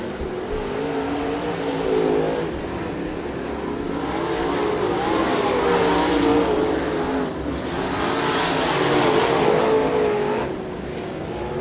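Race cars battling for fifth position in turn two at Bubba Raceway Park, a continuous roar of several engines rising and falling as they race past.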